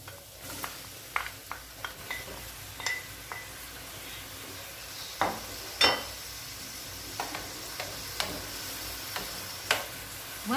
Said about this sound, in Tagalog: put extra virgin olive oil and saute the finely chopped garlic and the finely chopped onion, followed by slices of tomatoes